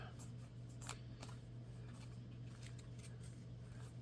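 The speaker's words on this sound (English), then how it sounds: "I am going to grab this copy of Double Life and shuffle that back into my deck" Cards from a Marvel Champions deck are shuffled: faint, scattered papery riffles and taps over a steady low hum, with no talking.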